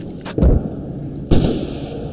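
Two heavy cannon blasts from a Bradley fighting vehicle fire on an enemy tank in a military video game, each a loud sharp boom with a rumbling tail, spaced about a second apart.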